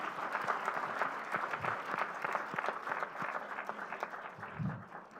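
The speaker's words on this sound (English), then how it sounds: "I request a huge round of applause," Audience applause at the inauguration of the sixth Mysuru Literature Festival, a steady wash of many hands clapping at moderate level that carries on for several seconds.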